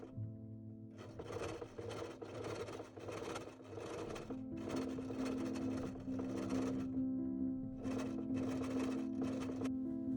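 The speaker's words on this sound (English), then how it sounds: "it's time to sew your first bonding channels on your 16th" A sewing machine stitches bonding channels on 16th century stays, running in several close bursts of rapid mechanical whirring separated by short pauses, with a steady low hum beneath.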